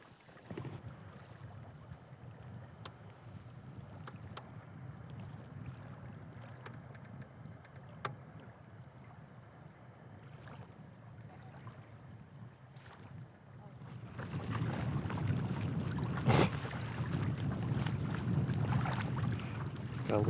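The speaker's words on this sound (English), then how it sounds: "Aggressive paddling." A boat is paddled hard into a headwind on a hunting trip, with rhythmic paddle strokes and water splashes under steady wind rumble that grows louder and gustier near the end.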